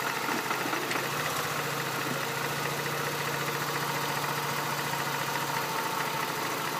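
Mazda RX-8 rotary engine idling with a knock, a steady mid-level running hum overlaid by a fine rapid ticking rhythm, continuous and close.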